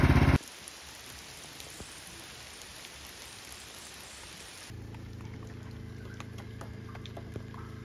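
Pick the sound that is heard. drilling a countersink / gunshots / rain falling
rain falling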